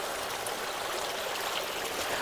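A small stream runs at low flow through an Ooty tea estate, giving a steady, even trickling rush of water that stays close and continuous with no voices.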